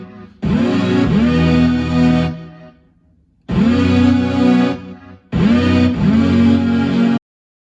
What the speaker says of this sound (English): I'm gonna add these chords for the drop, but they're gonna be kind of quiet and rise up